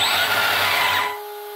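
Loud, steady high-pitched electric whine of an Arrma Big Rock 3S BLX brushless RC car motor running, lasting about a second before cutting off abruptly into near silence.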